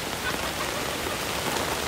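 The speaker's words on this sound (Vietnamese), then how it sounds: "Hiện tại thì một cái cơn mưa chiều rất là lớn luôn." Heavy afternoon rain pours down in a steady, dense hiss of drops hitting surfaces, loud and continuous with no voices.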